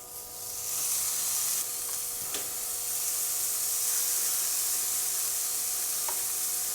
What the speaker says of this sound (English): I can already smell this thing searing up just nice